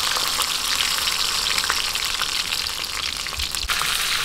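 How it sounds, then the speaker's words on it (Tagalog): Batangas-style morcon wrapped in leaves frying in oil, a steady, dense sizzle, close and continuous throughout. "piniprito po na nasa dahon"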